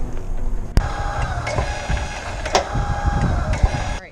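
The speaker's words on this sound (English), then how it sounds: "It seems like the motor, the gears inside the tongue jack are like stripped." RV tongue jack motor with stripped worm gears, a whirring electric motor close by with grinding clicks and sharp knocks as the gears slip, running for about four seconds before cutting off.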